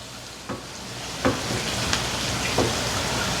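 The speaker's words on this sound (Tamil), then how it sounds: "கழுவி வச்ச கருவேப்பிலையை ஆட் பண்ணி அதுவும் கொஞ்சம் வதங்க விட போகிறேன்" Curry leaves sizzle and fry in hot oil with a steady crackle, punctuated by a few sharp pops and spatters; no voices.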